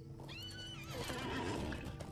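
A horse in the Lord of the Rings Online video game gives a clear, close whinny, with the rising neigh trailing off over faint background game ambience.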